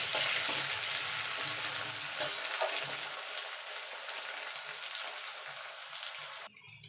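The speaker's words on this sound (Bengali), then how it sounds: "আলুটা দিয়ে একটু ভাজা ভাজা করে নেব।" Cut potatoes sizzle and fry with browned onions in a pan, a bright, steady crackling hiss that tapers off slowly before cutting out near the end.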